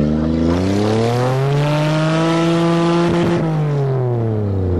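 A manual Toyota car accelerating hard at full throttle, its engine note climbing steadily through a loud, close rev with a brief rough patch before easing slightly, no talk over it.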